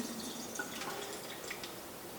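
Soaked dried beans and their water are dumped into a strainer, giving a steady close splashing, pouring wash with scattered drips and trickles running throughout.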